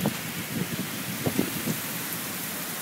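Heavy rain during Hurricane Irene, heard from shelter beside a building: a steady, dense wash of rain hiss with a few louder low bursts, no talk.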